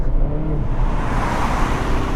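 A 2015 Honda Accord Sport's engine hums steadily from inside the moving car, a close, continuous low drone with road rumble and no voices.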